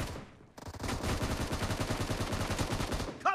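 Rapid bursts of automatic gunfire in PUBG Mobile team deathmatch, loud and dense, a steady rattling stream after a brief pause, alone without talk.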